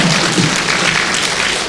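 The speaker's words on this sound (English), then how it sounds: "You all keep applauding." A short, dense burst of audience clapping at a Buddhist teaching session, even and continuous through the moment, with no voices over it.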